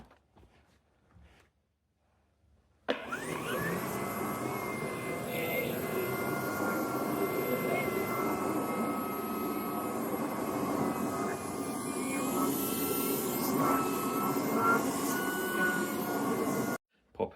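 A Shark PowerDetect cordless pet vacuum cleaner runs close by with a steady, loud motor whine and airflow roar that starts abruptly, holds level for about fourteen seconds, then cuts off; no talking.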